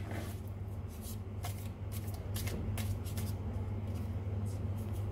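Tarot cards being shuffled and laid out on a surface, a run of close, crisp riffling and slapping card sounds with quick irregular bursts over a low steady room hum, without speech.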